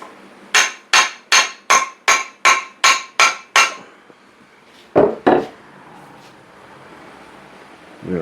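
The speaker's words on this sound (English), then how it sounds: "Get a little heavier hammer." Nine sharp, heavy hammer blows in steady rhythm, driving a handle into a sidewalk ice scraper, then a pause and two more strikes, ringing close by with no talking.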